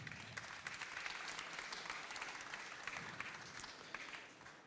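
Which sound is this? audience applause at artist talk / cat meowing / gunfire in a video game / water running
audience applause at artist talk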